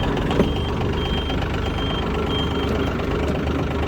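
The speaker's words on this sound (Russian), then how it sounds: "Индикацию задней передачи слышим." A used Yanmar AF22 Japanese mini tractor idles with a steady low engine rumble. Faint, intermittent reverse-gear warning beeps sound over the engine noise.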